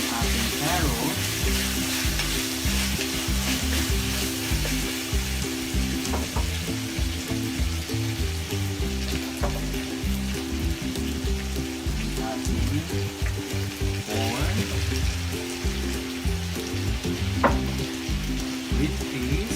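Carrots stirred into fried rice in a hot pan, with shrimp and chicken luncheon alongside, giving a dense, steady sizzle with scraping stir strokes throughout, loud and close.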